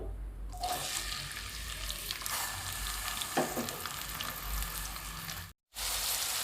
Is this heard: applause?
no